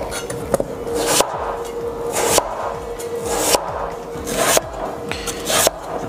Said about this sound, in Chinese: 现在开始准备切菜，这个洋芋一切。